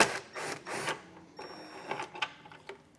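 A power driver whirs in short rapid bursts, pausing between them, as T15 Torx screws come out from under the tail light covers of a 2024 Chevrolet, close and fairly quiet.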